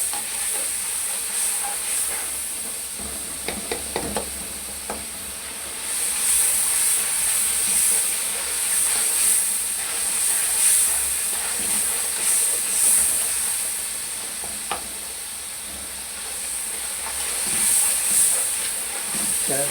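Masala of tomato and onion fries steadily in a pan for Kabuli pulao, a continuous hiss and sizzle with occasional scraping stirs of a spoon, close and fairly loud with no talking.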